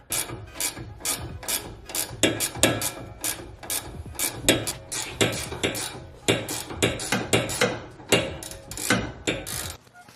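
Wrench and Allen key working the end link nut on a Subaru BRZ / Toyota GT86 sway bar, giving a steady run of sharp ratcheting clicks and metallic taps, close and fairly loud, with no talk over it.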